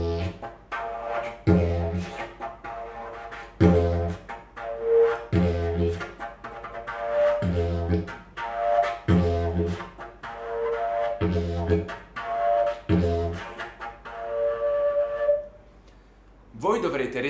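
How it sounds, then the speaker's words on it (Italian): A droning didgeridoo plays a pulsing rhythm of repeated low, breathy bursts, with a hollow flute-like tone over the drone, fairly loud and close. "L'altro ritmo invece utilizza l'effetto flauto."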